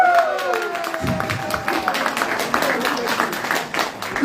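Crowd clapping at an outdoor political gathering in Edo State, a rough, continuous patter of many hands with crowd noise underneath, steady and fairly loud throughout.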